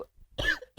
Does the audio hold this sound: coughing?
yes